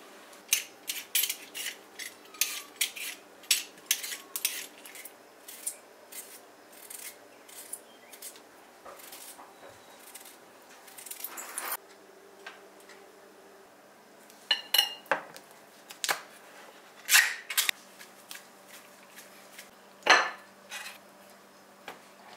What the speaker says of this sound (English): I'm slicing the Spam. I've already sliced it one way